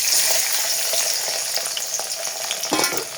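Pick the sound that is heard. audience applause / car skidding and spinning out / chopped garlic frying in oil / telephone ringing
chopped garlic frying in oil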